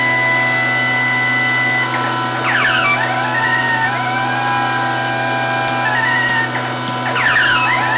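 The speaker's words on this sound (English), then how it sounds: "You might be able to actually hear that tone coming through." A TR1998 VHF AM Cold War aircraft valve radio receiver gives off a loud, steady tone over a constant hum, with brief warbling sweeps near the middle and the end.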